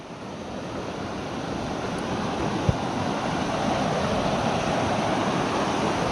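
A river on Mount McLoughlin in Oregon during June snow season flows in a constant loud broadband rush, steady throughout with one brief knock midway and no voices.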